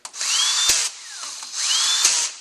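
A power drill whirs in two close, loud bursts, its motor pitch rising as it drives a bolt into a Subaru 4EAT transmission valve body, with a brief pause between.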